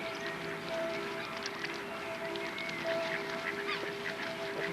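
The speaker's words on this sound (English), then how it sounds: "Feeding the bird." Geese honk while being fed outdoors, a few scattered calls at moderate distance over a steady background hum, with no talk.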